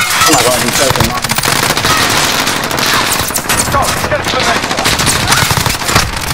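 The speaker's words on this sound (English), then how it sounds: "They're all shooting me, by the way." Dense bursts of automatic gunfire from a Modern Warfare match crackle almost continuously, loud and close, with voices talking excitedly over the shooting.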